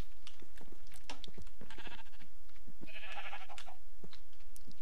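Sheep bleating in the Minecraft video game, a few short bleats near the middle over a noisy background, with no talk.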